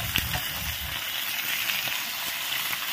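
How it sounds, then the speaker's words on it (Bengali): Chicken pieces sizzling in a pan with ginger, garlic and onion for a country chicken curry, a steady close frying hiss with faint stirring clinks throughout. "এবার চিকেনটা একটু ফুল আছে, সুন্দর করে ফ্রাই করে নেব।"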